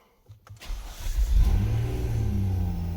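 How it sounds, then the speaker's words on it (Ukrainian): A 2020 Nissan Murano SL AWD engine fires on its first start after brief cranking, surging into a close, loud rev before settling into a steady idle. "Натискаємо газ, пробуємо перший запуск."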